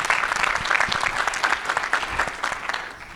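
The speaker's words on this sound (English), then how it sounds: "So I think let's give another round of applause for Malika for honoring Dr. Diana." Conference audience at a closing plenary panel giving a round of applause, sustained clapping from many people with distinct individual claps audible, tapering off near the end.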